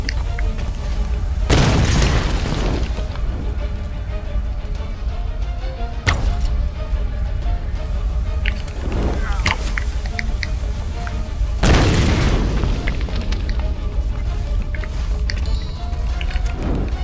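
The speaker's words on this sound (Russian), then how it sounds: "они еще взрывают." Explosions in the Tomb Raider video game, with deep booming blasts bursting out at three points amid a constant crackling fire and rumbling background.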